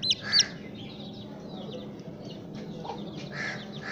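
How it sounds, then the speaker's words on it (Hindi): A hen chasing a chick gives a few short, sharp clucks and chirps early on, then quieter scattered calls over a faint background hum. "अब इस बच्चे के पीछे लगी हुई है मुर्गी और इसको मार रही है,"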